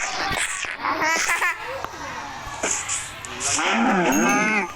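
Cows in a cow pen in the Minecraft video game moo several times in short bursts, mixed with people talking and laughing over them.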